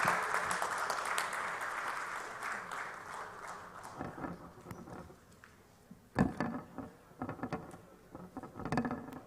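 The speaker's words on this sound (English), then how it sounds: "can we have a huge round of applause for Mr. Ajay Kumar Thakur." An audience at a national entrepreneurs' summit applauds, a dense burst of clapping that gradually thins out into scattered claps.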